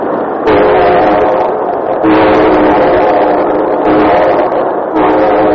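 A loud, steady rumble of a train in motion, dense and continuous, with rhythmic surges every second or so like wheels passing rail joints.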